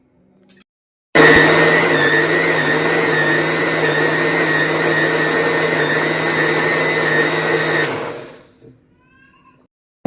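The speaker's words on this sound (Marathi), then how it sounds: "फिरून घेणार आहोत मिक्सर" A mixer grinder blending coconut masala paste for a Malvani prawn curry, starting abruptly with a loud steady whirring motor hum that runs for several seconds, then winds down and stops, heard close with no talk.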